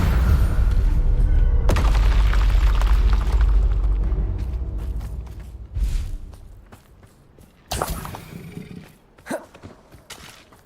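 A Bombarda blasting spell in Hogwarts Legacy bursts as a loud, low boom that rumbles and fades over several seconds, followed by a few sharper, smaller impacts and thuds.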